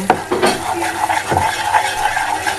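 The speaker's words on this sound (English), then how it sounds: "We're going to keep on stirring till it's golden brown." A spoon scraping and clinking steadily against a pot while coconut toffee thickens over heat, with rhythmic, close, fairly loud stirring strokes and no speech.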